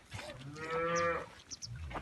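A cow named Kuka moos once, long and loud and close, during evening milking, followed by a few softer grunts and rustling.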